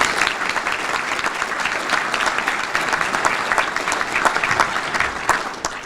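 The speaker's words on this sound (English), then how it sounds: "let's have a round of applause for those employees" Round of applause for honored employees at a chamber of commerce breakfast, a loud, continuous wash of clapping from a seated crowd that holds steady throughout.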